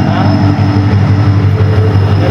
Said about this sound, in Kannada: ಬಂತು ನೋಡಿ ಈಗ ಟ್ರೈನ್. Train is coming.